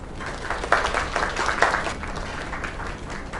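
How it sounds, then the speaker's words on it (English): A crowd applauding steadily, dense clapping that swells slightly near the start and holds at a moderate level throughout. "Another round of applause."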